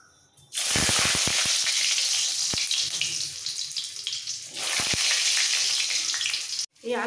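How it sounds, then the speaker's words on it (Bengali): Potatoes slide into well-heated oil in a home kitchen, setting off a sudden loud burst of sizzling that holds steady for several seconds, with a few sharp clatters near the start and a brief quiet pause near the end. "তেল ভালোভাবে গরম হয়ে গেছে, দিয়ে দেবো সবার আগে আলুগুলো।"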